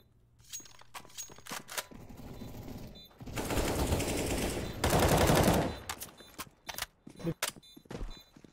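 Rapid bursts of gunfire in a CS:GO match, loud, dense stretches of shooting broken by short pauses and scattered sharp single shots near the end.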